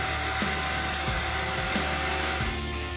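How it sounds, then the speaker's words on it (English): A shop vacuum fitted with a cup and straw nozzle attachment runs with a steady, loud whining roar, its airflow pulsing slightly at regular intervals, with no talk. "put it on the top of your vacuum hose, turn on your vacuum"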